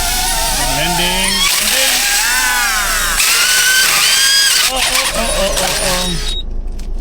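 A small drone whines loudly overhead, its pitch rising and falling as it manoeuvres and comes down to land, then cuts out abruptly, while people talk nearby.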